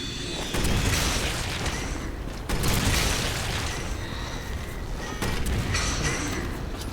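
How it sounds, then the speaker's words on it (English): Three heavy booming grenade explosions in Resident Evil 6 land about two and a half seconds apart, each a loud burst decaying into rumbling noise. "Alright, grenade explosions."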